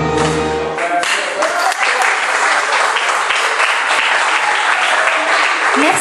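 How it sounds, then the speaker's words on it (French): Loud, sustained audience applause for a singer after a song at a live show in Normandy, a dense wash of clapping that starts abruptly after the last sung note and continues steadily. "on peut l'applaudir très très fort"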